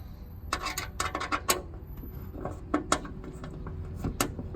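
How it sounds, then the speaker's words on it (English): Allen key turning and seating screws into a Jeep JL front inner fender, giving a run of sharp metallic clicks and rasps with small scrapes at an uneven rhythm, close and fairly quiet, no talking. "Now just take an Allen key and gently tighten these guys down."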